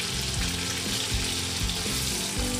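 A large sliced onion sizzles in melted butter in a pot for beef kaldereta, a continuous soft frying crackle with a few faint scraping stirs, no talking.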